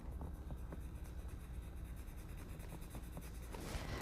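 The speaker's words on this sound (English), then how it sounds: "I take the edge of one of my lighter pencils and I press in and I create a streak" Close, faint scratchy strokes of a colored pencil edge pressed into paper to make streaks, repeating unevenly over a low background hum.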